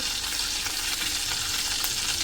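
Asafoetida, mustard seeds and cumin sizzle in hot oil in a kadai, a dense steady hiss heard up close for a couple of seconds with no talking.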